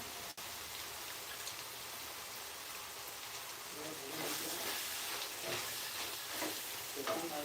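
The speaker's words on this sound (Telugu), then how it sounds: "కూర అయితే రెడీ అవుతుంది చక్కగా ఉడుకుతుంది" Bottle gourd curry in a clay pot starts with a low, quiet hiss, then breaks into louder, patchy bubbling and spattering pops from midway on, close by.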